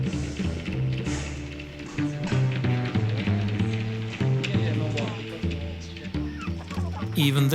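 Chickens on a farm that uses bokashi fertilizer cluck in a busy, repeated chorus, heard under steady talk and other background sound.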